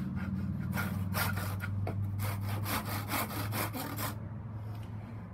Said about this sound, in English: that's all we're doing is cutting into the wood